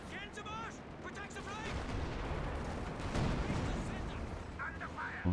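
Coordinated artillery barrage from a P4 in a real-time strategy game, a dense rumble of overlapping blasts and gunfire that builds in the middle. A commentator speaks briefly at the start and end.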